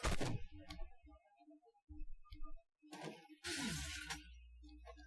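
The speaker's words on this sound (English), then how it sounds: "I am shooting at the Leopard 2A6." A tank cannon shot striking a Leopard 2A6 in Armored Warfare: sharp metallic impact bursts with shattering crunches and debris, between quieter clicks and ticks of the game's interface, with no voices.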